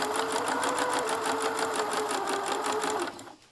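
Sewing machine stitching a small dollhouse miniature pillow a quarter inch from the edge, a steady rapid close-up whir of the needle that runs evenly and then slows and stops near the end.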